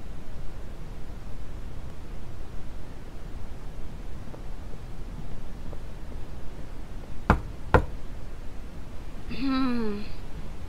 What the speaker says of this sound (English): I guess they did not hear my knock.